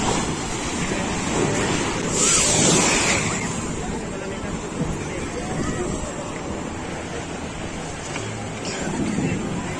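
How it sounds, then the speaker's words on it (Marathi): Rough sea waves crash and roar continuously at crowded Alibaug beach in Maharashtra, with spray flying and heavy wind buffeting the microphone. "पूर्ण समुद्र खवळलेला आहे."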